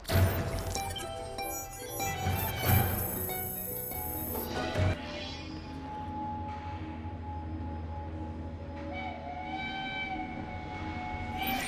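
Moving train in Assassin's Creed Syndicate: steady rolling rumble with clanking and metallic clinks, a sharp whistle blast early, then a quieter continuous ride with faint whistling tones.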